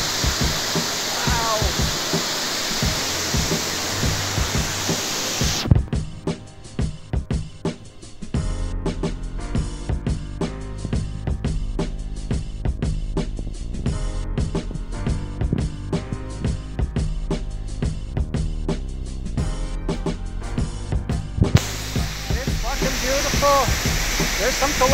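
A waterfall in Colombia pours with a constant broadband rush of falling water, loud and near, fluctuating as the listener moves around it; faint voices surface at times.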